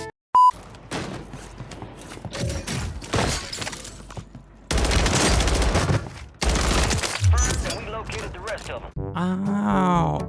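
Rapid bursts of HRM-9 submachine gun fire in the video game Warzone 3, loud and close, broken by short gaps and mixed with game effects and beeps.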